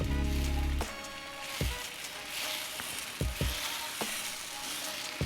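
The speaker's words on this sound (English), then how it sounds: "take our dosa batter, and using a ladle, I'm going to place it in the center" Dosa batter ladled onto a hot pan gives a steady, close crackling sizzle with a few soft clinks and scrapes, and a short low hum at the very start.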